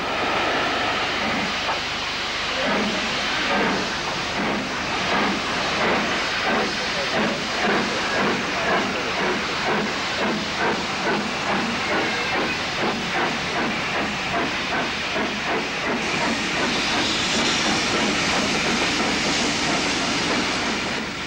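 A4 steam locomotive Union of South Africa pulling away from a station with an up express, steady loud hiss of steam with rapid chuffing beats building over about twenty seconds, close by and continuous.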